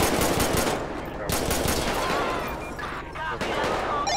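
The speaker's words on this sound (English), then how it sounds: "we got shots fired" Rapid gunfire from a police shootout in GTA 5, with dense bursts of shots close and loud, continuing under brief speech.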